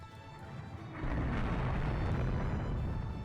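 A torpedo strikes a warship in the naval strategy game Rule The Waves 2, setting off a sudden deep explosive boom that swells into a sustained, heavy rumble above a low background drone.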